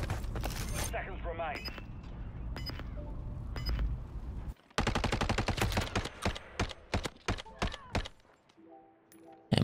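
Rapid bursts of video game gunfire, some dense automatic strings and some spaced single shots, loud and close, with a player talking over parts of it.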